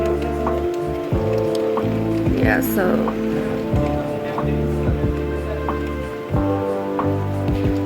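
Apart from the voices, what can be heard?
heavy rain pouring outside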